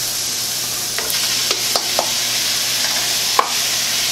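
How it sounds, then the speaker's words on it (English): Garlic and tomatoes sautéing in a pan, a steady close sizzle with a few light clicks of a utensil stirring, no talking. "Once the garlic is fragrant, toss in the tomatoes."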